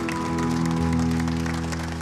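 Audience applause at a Brazilian variety show with an orchestra, a dense continuous clapping wash over sustained tonal music for about two seconds.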